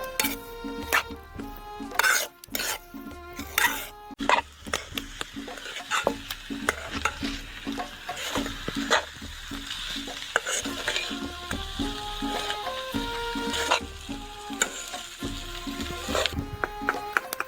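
Potato and vegetable filling stirred with a spoon in a hot pan, with repeated scraping and clinking of metal on the pan over a low sizzle and no speech.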